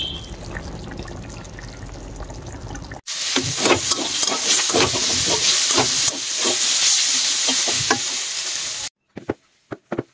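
Frying in a home kitchen pan for a snakehead fish curry with green chillies: a sudden loud sizzle bursts in and crackles steadily with sputtering pops, then cuts off into a few short clatters near the end.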